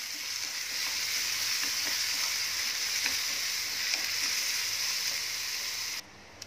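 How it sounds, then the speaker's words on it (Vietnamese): Lemongrass and chili sizzle hard in a hot pan, a loud, continuous crackling hiss that cuts off abruptly near the end. "mình đã phi sả ớt"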